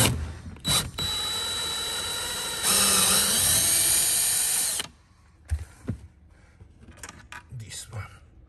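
A 10mm socket on a ratchet works a taillight bolt on a Porsche Boxster, giving a loud sustained mechanical whir with ratcheting texture, then brief clicks and handling knocks, with quiet talk between.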